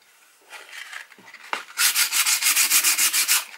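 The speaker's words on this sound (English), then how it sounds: "I'm going to sand all of the scuffs and stuff, sand this paint off." Close-up hand sanding with 120-grit paper strips old paint off a vintage 1960s hatchet: a few tentative scrapes, then a run of quick, even back-and-forth rasping strokes, loud and alone.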